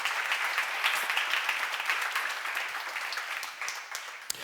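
Congregation applauding at a church seminar, a steady wash of many hands clapping at moderate distance that carries on for several seconds before thinning out.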